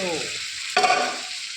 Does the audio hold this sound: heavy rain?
no